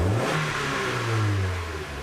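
Mazda Miata engine after a spark plug and plug wire change, revved at full throttle, with a smooth rising and falling tone that sounds close and loud and has no talking over it.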